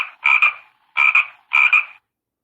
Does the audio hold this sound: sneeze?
no